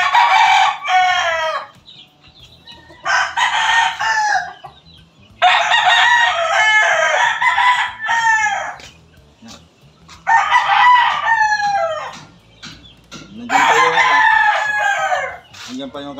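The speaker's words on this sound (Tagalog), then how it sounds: "Ito, yung broodcock ni Pare RB." A Golden Boy gamefowl broodcock crows loudly and close in five separate bursts, each a long drawn-out call with short gaps between them, and faint clucking and low background noise sit underneath.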